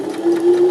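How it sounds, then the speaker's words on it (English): Sewing machine stitching a pocket seam on a garment, a short, close, steady mechanical hum with a sustained tone. "needle down, lift your presser foot, pivot, and we're going to sew around the pocket now"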